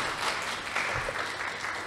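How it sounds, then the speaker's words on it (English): Brief round of audience applause at a health conference panel event, a short burst of moderate clapping heard from across the room. "I think we should give him another round of applause."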